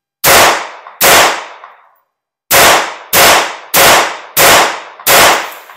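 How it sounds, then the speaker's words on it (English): Seven sharp, loud gunshots from a Beretta 950BS Minx pistol firing 22 short Aguila rounds, two close shots followed after a pause by five evenly spaced ones, each with a brief decaying ring. "That was 7 rounds, a whole magazine."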